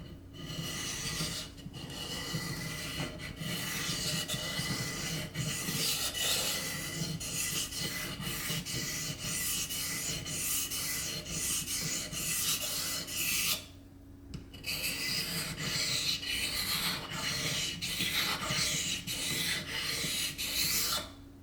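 A blade is honed on sharpening stones, producing a continuous close gritty rasping of steel over stone in long strokes, with a brief pause midway before it resumes.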